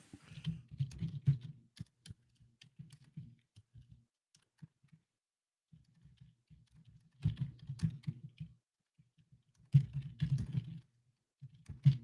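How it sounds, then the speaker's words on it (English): Someone types on a computer keyboard nearby in quick clattering bursts, with clusters of keystrokes separated by short pauses and stretches of quiet. "Oh, I hear keyboard typing."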